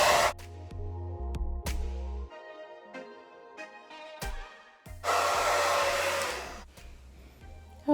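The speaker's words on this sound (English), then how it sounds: "use the cool shot on the dryer, which is like the separate button" A hair dryer blows with a broad airy rush, switching off and on in uneven bursts with brief pauses and clicks as its cool-shot button is used.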